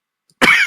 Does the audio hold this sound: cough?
yes